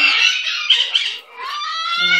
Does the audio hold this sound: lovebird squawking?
yes